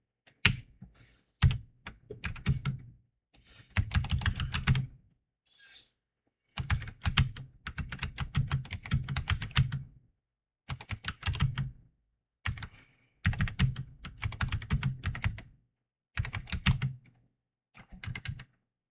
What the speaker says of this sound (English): It's a Red Dragon keyboard, so I feel like it should be a pretty good keyboard